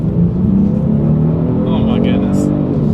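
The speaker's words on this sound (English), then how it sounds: "Let's see how quickly we can get the G70 here up to speed" A 2021 Genesis G70 with a twin-turbo V6 accelerates hard down a straightaway, a loud steady engine drone rising in pitch from start to finish, heard from inside with a brief higher sound near the end.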